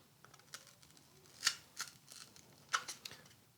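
Quiet, scattered snips of scissors working through stiff material, a few sharper cuts standing out against soft background noise.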